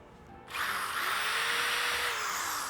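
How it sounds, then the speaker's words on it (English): An electric drill whirs to life after a brief quiet moment and runs steadily at high speed, close and continuous. "drill a hole"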